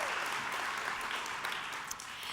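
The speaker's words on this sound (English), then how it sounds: "Give a round of applause for your girls." An audience at the Miss Anaheim 2016 pageant claps in steady, dense applause after the talent preliminary, sustained and fairly distant throughout.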